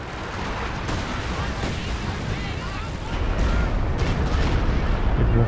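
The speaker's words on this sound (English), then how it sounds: "Got the flame mortar coming in as well." Flame mortar and artillery fire rumble through a large Company of Heroes 2 battle, a continuous wash of distant booms and crackling blasts that swells louder midway, with someone talking over it.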